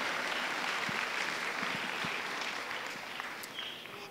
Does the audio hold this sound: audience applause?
yes